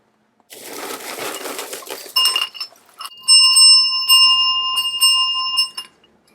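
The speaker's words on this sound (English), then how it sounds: "the bell with a triple moon design on here" A metal bell with a triple moon design is handled with rustling, then rung several times, its bright ringing tones sustaining and overlapping before fading.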